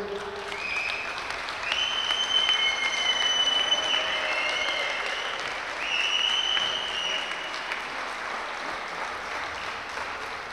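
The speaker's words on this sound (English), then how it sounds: "Give both players a big round of applause," Audience applause after the men's final of the Bruges Open 2022 darts championship, a steady broad patter of clapping held across the whole stretch and swelling twice, with a few faint tonal whistles or squeaks riding above it.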